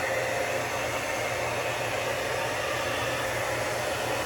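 A hair dryer blows heat onto a beard for styling, a steady close-up roar with a low motor hum that holds constant throughout, with no speech.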